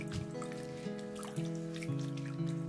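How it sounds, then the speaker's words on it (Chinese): Plantain leaves being gently washed in a basin of water, soft trickling and dripping with light splashes, quiet and close. "把车前草给清洗干净"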